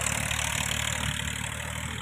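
On a farm, a tractor engine idles alone with an even, low, throbbing hum that holds steady and close for the whole stretch.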